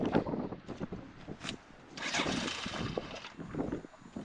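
A BMW K100 motorcycle engine cranks and sputters as it tries to start on a Power Wheels battery, with uneven bursts of turning over close by.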